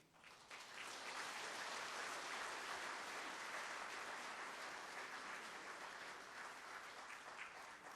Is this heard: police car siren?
no